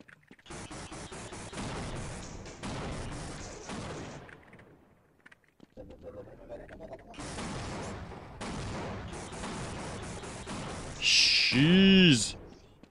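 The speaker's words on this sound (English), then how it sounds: "Let's try the tau cannon." Tau cannon fire in the Half-Life video game, heard as bursts of dense, crackling energy-weapon discharge with a sharp, bright whine near the end, over loud game sound effects.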